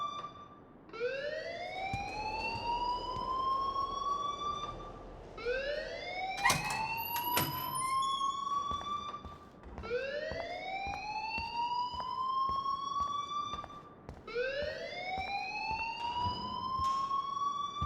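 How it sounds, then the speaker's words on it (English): Fire alarm ringing in the video game Life is Strange, a loud repeating rising electronic whoop cycling about every four to five seconds, with a brief sharp clatter mid-clip and no talk. "please turn off that alarm since that's your job"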